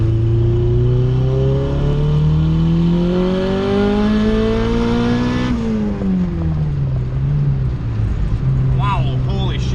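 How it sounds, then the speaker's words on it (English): A turbocharged car with a B20VE engine and flex injectors accelerates hard at full throttle in third gear, its loud engine note climbing steadily in pitch, then dropping sharply at the shift and rising again; people speak over it. "Alright, so I'm going to stab it here, 3rd gear."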